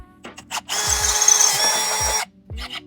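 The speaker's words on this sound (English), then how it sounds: "After you have your hole drilled out" A power drill bores a hole into the frame rail of a fourth-generation Toyota Tacoma during a suspension install, a close whirring burst of about one and a half seconds framed by soft clicks and taps.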